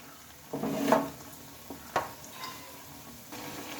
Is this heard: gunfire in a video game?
no